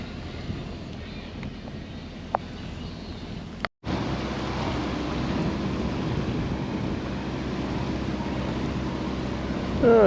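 Heavy rain drums steadily on a boat moored on the Norfolk Broads, a dense, continuous hiss that swells after a brief silent break and stays loud and close throughout.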